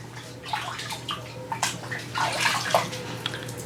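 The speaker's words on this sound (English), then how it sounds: "I've got a little bucket of water here. I'm just going to dip it real quick." A small concrete statue is dipped into a bucket of water, giving a few short sloshing splashes and drips at close range over a low steady hum.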